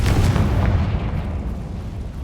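A Confringo blasting spell in Hogwarts Legacy erupts in a single loud, deep explosion that fills the moment and rumbles away gradually.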